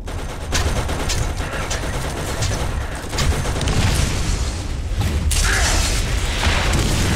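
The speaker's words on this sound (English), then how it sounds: "we're gonna see how this cannon does" Cannon fire in the Borderlands shooter game, a dense run of loud booming shots and blasts packed closely together over continuous gunfire and combat noise.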